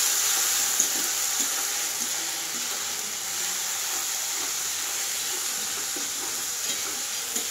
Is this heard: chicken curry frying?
yes